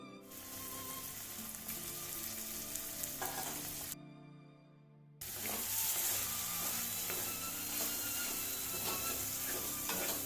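Duck egg and small tomatoes fry in a pan over a low gas flame, a steady dense sizzle broken by a short near-silent gap around four seconds before the loud crackling resumes and continues to the end.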